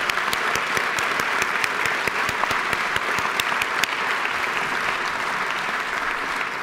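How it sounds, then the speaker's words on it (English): Georgia House legislators applaud in the chamber, a dense, sustained roomful of clapping with sharp individual claps standing out, steady and fairly loud throughout. "would my colleagues give them a round of applause for their work in trying to make people know more about this disease?"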